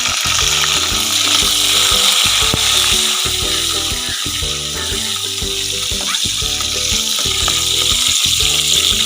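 Red chillies crackle and sizzle loudly in hot oil for a pickle, a dense continuous frying roar with occasional spoon scrapes in the pan, no one talking.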